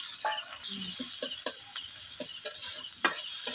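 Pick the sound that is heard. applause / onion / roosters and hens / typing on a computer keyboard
onion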